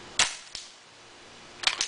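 A 12-gram CO2 cartridge air gun fires two sharp, loud pops about a third of a second apart, then after a quiet pause two more quick cracks follow, with no talking.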